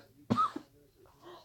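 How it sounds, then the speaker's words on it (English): A single short, dry cough close to the microphone, followed by a brief quieter throat sound in a quiet room. "Excuse me for this coughing because of the dry air in my house."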